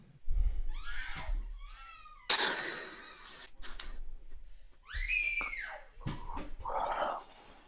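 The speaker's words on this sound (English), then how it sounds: "Yet again, I have a 4-year-old in the background screaming at me" A four-year-old child screams in the background, a series of loud, shrill, wavering bursts broken by short pauses and breathy gaps.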